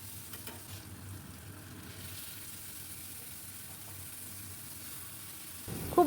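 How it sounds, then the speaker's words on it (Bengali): Taro stolons frying in a pan with mustard-poppy paste: a faint, even sizzle and low stirring rustle that runs steadily, ending in a slightly louder scrape. "বেশ কিছুক্ষণ ভেজে নেবার পরে যে সর্ষে পোস্তর পেস্ট করেছিলাম আমি পুরোটাই এর মধ্যে দিয়ে দিলাম।"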